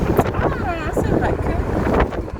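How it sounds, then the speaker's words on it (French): Wind buffets an outdoor microphone in a steady, loud rumble that runs the whole time, with a voice speaking over it. "Alors je sais pas si vous m'entendez beaucoup parce qu'il y a du vent"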